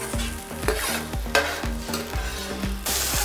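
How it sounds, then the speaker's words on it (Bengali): Vigorous stirring of frying food in a pan, rhythmic scraping strokes about twice a second over a continuous sizzle, close and loud, with no voices. "দারুণ হিলাচ্ছ তো ফ্রাইং প্যান"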